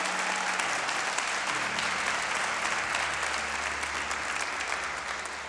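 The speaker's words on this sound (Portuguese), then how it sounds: "Se for aplaudir o Senhor, aplauda com muita fé e bem alto, até sua mão arder" A church congregation applauding hard and loud in worship, a dense sustained roar of clapping that holds steady for several seconds before easing slightly at the end.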